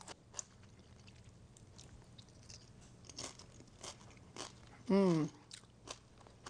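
Crunching into a chip topped with a shrimp dish, a single loud close bite near the end, preceded by quiet chewing sounds and a brief murmur of appreciation.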